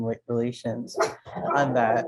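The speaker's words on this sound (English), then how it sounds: "I'm sorry about the dogs." Dogs bark in the background of an online community commission meeting, with several sharp bursts mixed under a person's steady talking.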